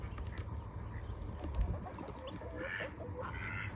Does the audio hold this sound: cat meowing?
no